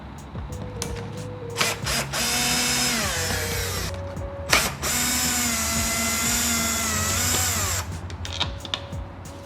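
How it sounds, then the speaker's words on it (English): A power drill whirs in several loud, sustained bursts with pitch bends as it backs out Phillips screws from the interior bed light of a fourth-generation Ram 1500 truck, with brief pauses and clicks between runs. "we're going to be doing so with a power drill."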